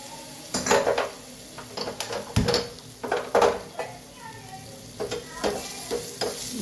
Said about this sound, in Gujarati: એમાં રાઈ, જીરું, હિંગ અને નાની ચોપિંગ કરેલી ડુંગળી એડ કરી છે.